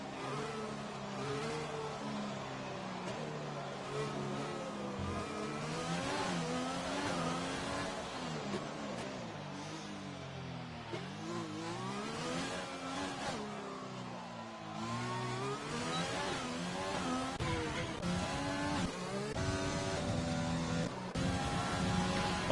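Formula 1 race car engines in the F1 2020 game at Monaco, heard on board a McLaren, rev and shift continuously with rising and falling whines for over twenty seconds, moderately loud with no talk.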